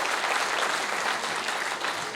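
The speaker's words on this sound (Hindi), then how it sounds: "अजीत चौधरी साहब के लिए जोरदार तालियां हो जाए" A seminar audience at an Aarfa Muskan Agro Forms India agriculture event gives loud, sustained applause for the company's MD, a thick, uninterrupted roar of clapping.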